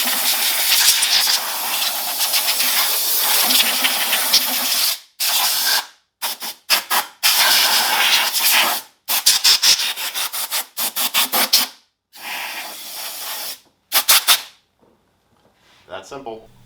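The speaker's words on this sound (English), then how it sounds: "So I'm just going to use some compressed air" Compressed air blasts dust off the intake area of a 2015 Jeep Grand Cherokee 3.6L V6, loud close hissing bursts, first long and sustained, then a string of short separated spurts.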